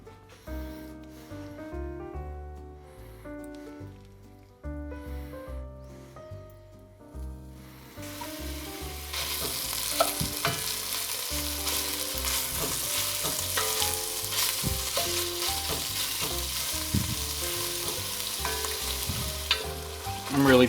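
Fatty chorizo fries in a little oil, giving a loud, steady sizzle with scraping and stirring as it is broken up. Music plays at the start before the sizzling takes over.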